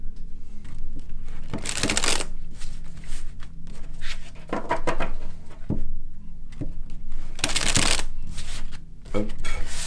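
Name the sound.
shuffling tarot cards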